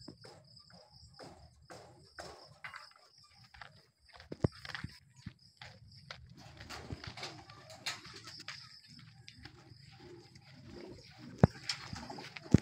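Racing pigeons arriving at the loft during a training lap, with repeated wing flaps, soft cooing and shuffling steps over a steady insect chirr in the background.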